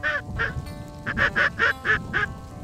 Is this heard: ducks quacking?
yes